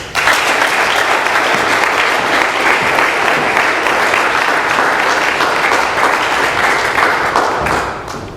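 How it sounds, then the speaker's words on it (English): A room full of people at an Alcoholics Anonymous meeting applauds a speaker, loud dense clapping sustained evenly for about eight seconds before tapering off. "Another round of applause for Jen"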